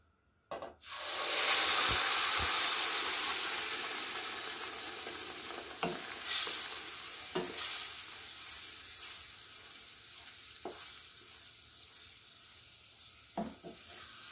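Ground shrimp patty mixture with sauce poured into hot oil, setting off a loud, steady sizzle that slowly eases, with a few sharp clinks of a utensil against the pan.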